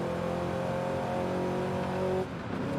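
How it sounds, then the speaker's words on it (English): In the video game Forza Horizon 5, a V8 car engine holds a steady, loud drone with a clear, stable pitch, then drops off suddenly as the revs fall near the end. "But I do like the sound of the V8."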